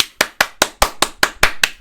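A football player claps his hands for the ball, eight sharp, evenly spaced claps ringing out loud and close with nothing else around them.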